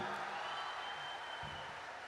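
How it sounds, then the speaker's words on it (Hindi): An audience at a Hindi poetry recital claps together in a steady, fairly distant round of applause lasting a couple of seconds. "बजाओ एक बार मिलके ताली साहब"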